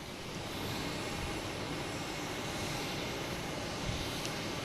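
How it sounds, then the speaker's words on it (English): An American Airlines Airbus A321 takes off at Boston Logan, heard as a continuous, distant broadband jet roar that holds steady without voices. "And the American Airlines taking off A321."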